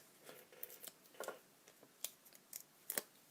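Scissors snipping tails on a handmade card, a quiet close series of a dozen or so short sharp cuts in irregular bursts, with no talking.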